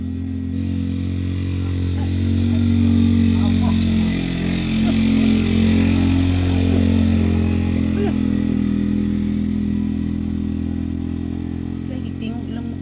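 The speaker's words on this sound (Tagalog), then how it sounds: "Tingog ilang motor." A motorcycle engine runs on a street with a steady low hum and buzz that rises slightly in the middle, heard at moderate distance while people talk faintly nearby.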